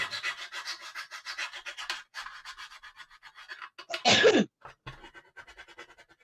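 Rhythmic rubbing or sanding strokes repeat, then a single loud, sharp sneeze bursts out close by before the scraping resumes.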